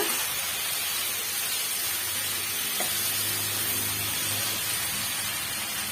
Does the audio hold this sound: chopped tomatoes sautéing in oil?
yes